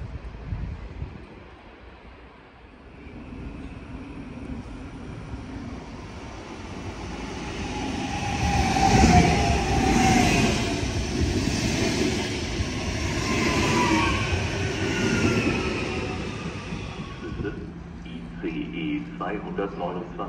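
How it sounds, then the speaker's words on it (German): A train pulling into a German railway station on the route between Rosenheim and Hannover, a long roaring rumble that swells as it draws near and then fades, with platform announcements spoken over it. "Vorsicht bei der Einfahrt."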